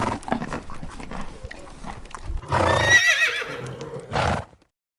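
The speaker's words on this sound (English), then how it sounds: "Listen to their powerful neighs." Horses on a farm let out a loud, close, shaky whinny after a stretch of shuffling hoof sounds and snorts, the neigh dominating before cutting off into silence.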